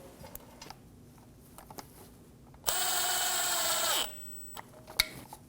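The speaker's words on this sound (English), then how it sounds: "Go around and get all the bolts installed." A power tool runs in one steady burst of about a second and a half, driving oil pan bolts on a 2008-2015 Scion xB, with faint clicks and taps of work before and after.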